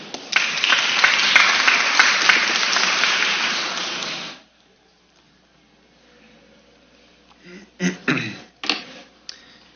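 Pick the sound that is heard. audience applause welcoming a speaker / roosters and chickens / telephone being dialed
audience applause welcoming a speaker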